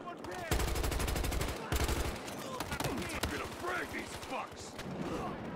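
Automatic gunfire rattles in rapid, dense bursts during a Battlefield Hardline multiplayer match, with a few sharper single shots and a player's voice talking in between.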